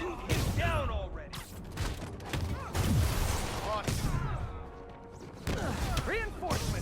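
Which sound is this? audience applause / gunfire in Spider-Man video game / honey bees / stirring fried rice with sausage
gunfire in Spider-Man video game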